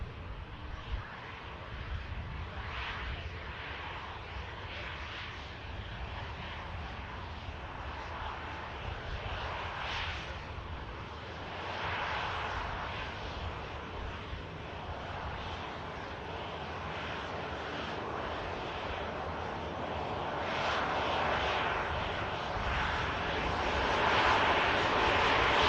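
A Scandinavian airliner taxis at Manchester Airport, its jet engines giving a distant, steady broadband roar that swells slightly toward the end, with no voices present.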